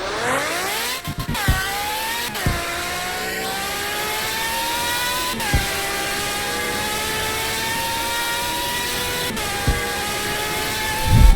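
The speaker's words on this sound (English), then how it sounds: "the engine is already loud and it also sounds good" A powerful V12 car engine in the Roblox game Midnight Chasers roars steadily at high revs, its pitch climbing in long sweeps and dropping briefly at each gear change, with no talking.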